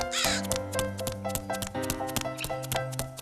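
A crow caws in quick repeated calls, loud and close, in a fast irregular rhythm over a rhythmic plucked music backing.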